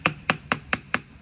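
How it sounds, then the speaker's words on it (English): A hammer taps a steering gear box part on a Ford Super Duty with a 7.3 Powerstroke, five sharp metallic strikes in a steady, even rhythm, close and clear. "so I just took this hammer"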